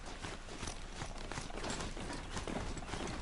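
Hooves of a mount clip-clop in Horizon Zero Dawn, a dense run of quick hoof strikes under a broad wash of game noise, steady and fairly loud throughout.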